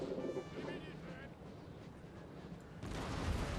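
Cannon fire in the video game Napoleon: Total War, a heavy rumbling barrage that builds to a louder burst near the end, with a game voice talking underneath.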